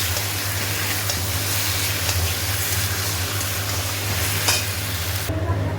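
Ginger-garlic paste and tomato fry in a wok with a loud, steady, close sizzle and hiss, and faint stirring scrapes come through, until the sound drops off abruptly near the end.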